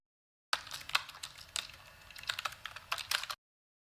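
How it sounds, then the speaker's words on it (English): Keys are mashed rapidly on a laptop keyboard in a 1997 horror film, a quiet, irregular flurry of plastic clacks lasting a few seconds and then cutting off abruptly, with no talk. "She's just mashing keys."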